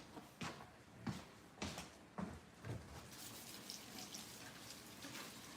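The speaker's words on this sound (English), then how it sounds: "Let me rinse them off because sometimes latex gloves have powder on them." Faint tap water runs and splashes as latex gloves are rinsed under a faucet, a few gushing bursts at the start settling into a soft continuous flow.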